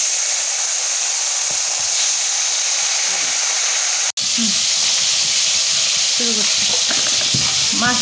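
Rohu fish pieces rubbed with salt and turmeric sizzle loudly in hot oil, a dense continuous hiss close by; brief voice-like sounds come through in the latter half.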